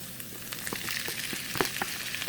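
Bitter gourd (ampalaya) frying with garlic and onions in oil in a pan, a steady close sizzle with scattered sharp crackles and pops throughout.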